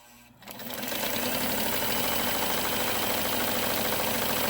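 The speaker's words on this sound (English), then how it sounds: "we're going to lower our presser foot down so that it is on the template itself, and we're going to start the machine" A Sears Kenmore 158 series sewing machine with a buttonholer attachment starts up and runs steadily, stitching a buttonhole with a fast, even mechanical whirring chatter, close and continuous, no talk.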